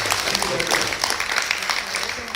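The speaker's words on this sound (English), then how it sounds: "Give them a round of applause. Great round of applause." Audience round of applause at an entrepreneurs' self-introduction business gathering, a steady dense patter of many hands clapping throughout, close and fairly loud.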